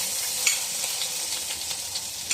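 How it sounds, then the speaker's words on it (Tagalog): Garlic and tomato frying in hot oil for pancit, a steady close sizzle with small crackling pops throughout. "Lagay tayo ng mantika. Bawang po. Ito kamatis na lang."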